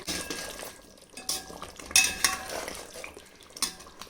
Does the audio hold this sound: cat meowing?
no